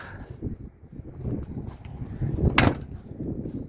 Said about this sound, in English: so when you close the door